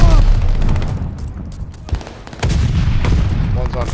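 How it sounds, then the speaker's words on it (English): A Gammon bomb goes off in the Call of Duty: Vanguard video game with a loud, close boom. Gunfire rattles around it and game voices speak over the blast. "Gammon bomb!"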